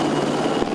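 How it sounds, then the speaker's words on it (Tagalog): An armed forces helicopter carrying a water bucket over a fire in Taguig makes a dense, continuous rotor-and-engine roar, loud and steady, with no talk. "makikita ang helicopter ng AFP na may dalang bucket para tumulong na maapula ang sunog"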